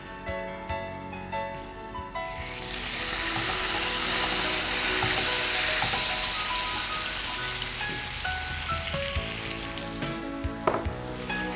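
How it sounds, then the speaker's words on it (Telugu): Milk poured over pasta frying in ghee swells into a broad hissing sizzle that peaks midway, then settles to a softer bubbling with occasional clinks of a utensil. "ఇది నెయ్యిలో వేగింది కాబట్టి ఇప్పుడు వెంటనే కొంచెం పాలు వేసేసుకుందాం"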